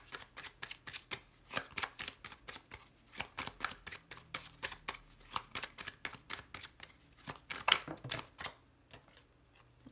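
A deck of cards being shuffled and cut in a tarot-style love reading, with rapid riffling bursts repeated in quick rhythmic flurries throughout, close and fairly quiet, with no talking.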